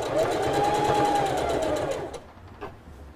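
A sewing machine stitches elastic onto a girl's shorts, a steady close whirring run that stops about two-thirds of the way through, leaving a faint click and quiet.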